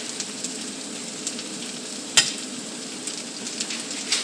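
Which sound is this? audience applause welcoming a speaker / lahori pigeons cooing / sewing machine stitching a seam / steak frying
steak frying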